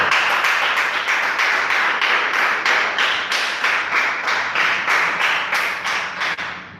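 A church congregation claps together in steady, rhythmic unison, fast even beats filling the room loudly for several seconds before tapering off at the end, with no talking over it.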